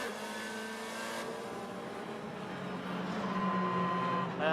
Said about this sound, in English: welcome on board my Lada Vesta GT1 car. We're gonna do a wet lap of the Moscow Raceway